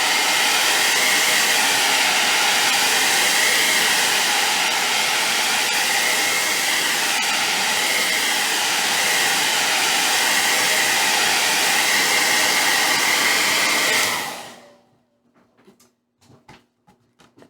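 A hair dryer blows steadily and loudly on fresh varnish over a craft project for about fourteen seconds, then switches off, leaving a few faint clicks and handling sounds.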